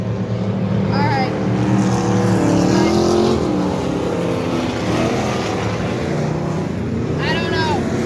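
Race cars roar around a dirt track at Dirtona Raceway, a dense, steady engine drone from several cars close by, with rising and falling pitch as they pass, and a voice talking over the racket.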